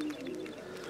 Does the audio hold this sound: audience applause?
no